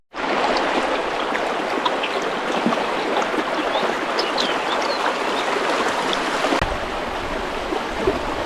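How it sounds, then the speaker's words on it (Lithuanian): A mountain stream flows close by in wild terrain, its steady, loud rush of water and trickling continuing unbroken throughout with no voices. "Šalia teka upelis, tai galima pasisemti vandenuko."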